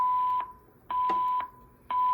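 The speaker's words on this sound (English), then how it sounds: "your floor evacuation signal sounds after this message" A Gamewell-FCI E3 fire alarm system sounds its evacuation signal: loud, steady electronic tone bursts of about half a second, repeating on and off at an even rhythm, with no talking.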